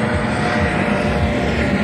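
Helicopters fly near the Strat tower in Las Vegas, a steady, loud rotor and engine roar filling the air high above the city with no one talking.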